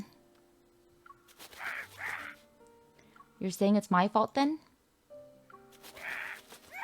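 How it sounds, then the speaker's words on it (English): A crow in a video game lets out a burst of harsh, rasping screeches, about five loud scraping caws in quick succession mid-clip, with a voice talking before and after. "As if expressing his grievances, the crow screeches."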